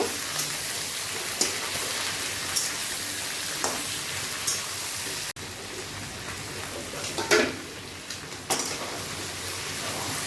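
Chicken pieces sizzling and frying in a pan while being mixed, a steady crackling hiss with occasional scraping stirs and soft clatters, close and moderately loud.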